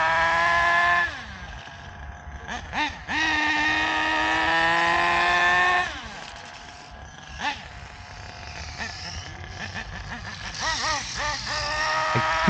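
A tiny engine on a TSR GK200 machine runs with a buzzing, wavering tone that rises and falls in pitch as it revs. It sounds close and fairly loud, with brief surges and dips.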